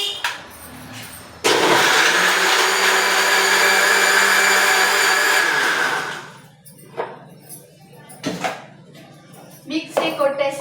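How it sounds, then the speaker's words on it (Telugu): A mixer grinder whirs loudly for about five seconds, grinding onion, ginger, garlic and garam masala in its jar, a steady high whine that stops abruptly, with quieter kitchen clatter and brief voices around it. "ఇగో ఇది మిక్సీ కొట్టేస్తున్నాను."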